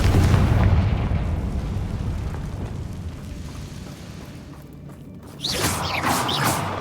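A Confringo fire spell explodes in Hogwarts Legacy with a loud booming blast that rumbles and fades over several seconds, followed by a fresh burst of crackling, popping fiery noise near the end.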